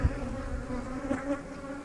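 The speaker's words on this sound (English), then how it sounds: "you notice these pissy bees here, they're flying" Bees fly around a hive with a steady, close droning buzz that holds at an even level throughout, with no voices.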